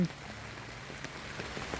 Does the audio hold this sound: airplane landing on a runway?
no